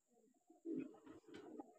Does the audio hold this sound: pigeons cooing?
yes